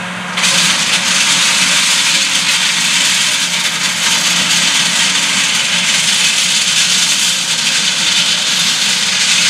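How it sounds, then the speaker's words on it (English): A railway surfacing machine lowers its spindle onto the tops of the ties to sweep loose ballast off the track, giving a loud, steady roar of heavy machinery that carries on for the whole stretch. "As he lowers that spindle to the tops of the ties,"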